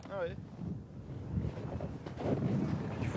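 Wind rising over Arctic sea ice roars as a steady, broadband rush of gusts buffeting the microphone, swelling slightly louder toward the end, with a brief voice-like tone at the very start.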